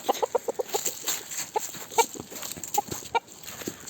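A Sultan rooster clucks in quick, short bursts, some louder and closer than others, over a faint background hiss.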